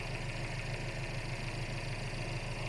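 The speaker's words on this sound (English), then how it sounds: "And just listen to how nice and quiet it idles. Very refined engine." A 2017 Mercedes SLC300 roadster's 2-liter single-turbo engine idles with a steady, quiet, even low drone and no voices.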